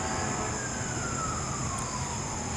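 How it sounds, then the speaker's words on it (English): Emergency vehicle sirens wail at a distance in a slow rising and falling tone, steady throughout under constant background noise. "The sirens."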